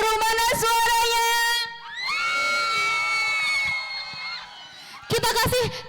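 A school assembly crowd of students cheers and shouts loudly at a demo event, with a sustained roar of children's voices and whoops between bursts of a voice over a loudspeaker.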